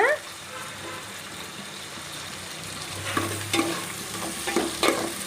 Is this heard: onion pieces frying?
yes